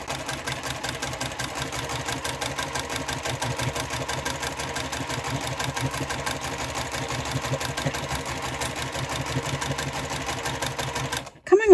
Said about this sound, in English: now we'll just sew along that edge